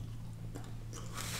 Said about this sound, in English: The bacon's nice and crispy, and it has these crunchy little onion thingies on them.